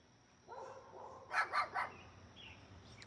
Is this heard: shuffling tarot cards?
no